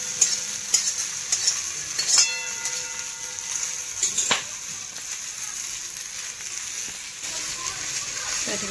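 Potatoes fry in hot oil with a steady, close sizzle and hiss, broken by occasional stirring clinks and splatters. No speech is heard.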